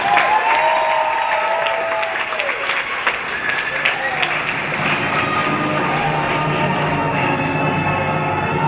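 An audience at a history lecture claps steadily in a dense, sustained round of applause, with crowd murmur and a few voices mixed in, gradually thinning toward the end.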